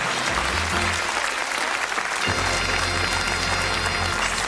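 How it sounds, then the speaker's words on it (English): A TV game show studio audience breaks into sustained applause, dense clapping that swells after a moment and keeps going, with some music and a voice underneath. "Give them a nice round of applause."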